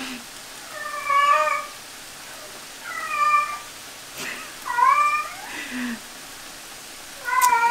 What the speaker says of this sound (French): c'est un petit chat que j'ai en garde en fait